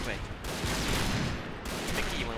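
Rapid gunfire in the shooter game Point Blank, dense overlapping bursts under someone talking excitedly, loud and continuous across the clip.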